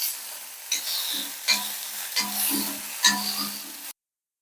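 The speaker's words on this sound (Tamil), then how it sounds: "இப்போ கொஞ்சம் நம்ம நல்லெண்ணெய் ஊற்றி பெரண்டையை நல்லா வதக்கிடுவோம்" Pirandai (adamant creeper) sautés in sesame oil, with a steady sizzle broken by several distinct stirring scrapes of a spoon through the pan before the sound cuts off abruptly.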